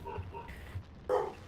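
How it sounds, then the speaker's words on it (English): Several short dog barks come from the background in bursts, with one louder bark near the end, over a low steady hum. "You got dogs barking in the background"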